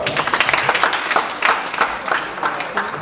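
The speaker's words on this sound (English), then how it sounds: "Round of applause for her." Audience applause at a cybersecurity meetup, a dense wash of many hands clapping that holds steady and fairly loud for about three seconds with no talk over it.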